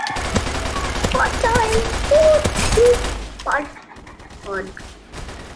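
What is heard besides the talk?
gunshots in Roblox Caliber video game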